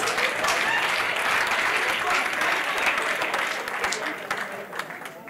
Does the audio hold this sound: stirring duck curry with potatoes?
no